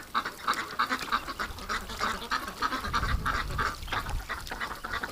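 Winter ducks keep up steady, repeated quacking and some honk-like calls in a lively overlapping chorus, with a low rumble of movement or handling noise briefly rising midway.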